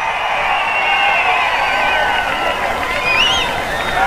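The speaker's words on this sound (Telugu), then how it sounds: "గెలిపిస్తామంటే గట్టిగా చప్పట్లు కూడా చెప్పండి" A large crowd at a political rally cheers and claps in a steady roar, with occasional whistles rising above it.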